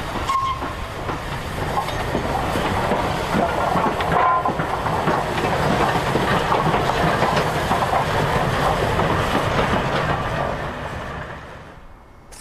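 The Flying Scotsman steam locomotive with a new-look engine working up Honiton Bank, a loud continuous roar of wheels and rail noise sustained throughout before fading near the end.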